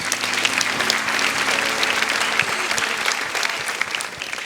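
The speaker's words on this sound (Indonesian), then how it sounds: "Tepuk tangan untuk Ayu Ting Ting." Studio audience applauding for Ayu Ting Ting at a comedy show: loud, dense clapping from a crowd, sustained for several seconds before gradually thinning out.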